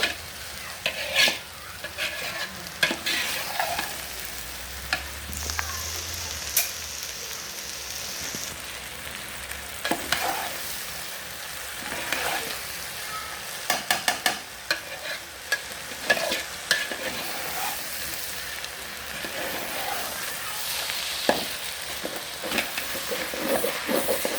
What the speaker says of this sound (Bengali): এই যে আর হালকা একটু ভেজে নেব